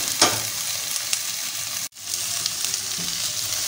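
Okra (lady finger) frying in a pan gives off a steady, close sizzle with soft hiss and a few stirring scrapes, broken by one brief dropout midway.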